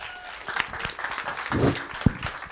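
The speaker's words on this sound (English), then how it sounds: "put your hands together for Tom Andriola." An audience applauds at a university student hackathon kickoff as a speaker is welcomed, fairly faint scattered clapping with some voices and thumps mixed in.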